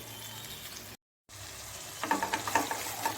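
Potatoes for alu dum sizzle in a pan; a soft fry fades to a brief silence, then several sharp scraping stirs clatter against the pan over the frying, with no talk.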